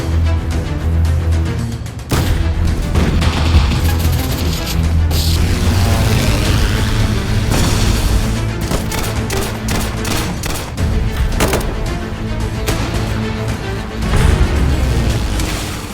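Dense, continuous gunfire from Roblox first-person shooter games, with overlapping rapid bursts and booming shots mixed with game music and effects, loud throughout with no speech.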